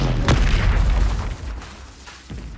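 A Confringo fire spell detonates in a wizarding video game: one heavy, close boom near the start, followed by a fading rumble and crackle.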